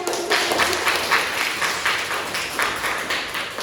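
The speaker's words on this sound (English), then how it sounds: "Please clap for yourself." A class of students clapping together in a steady, continuous burst of applause lasting a few seconds, fairly close and even.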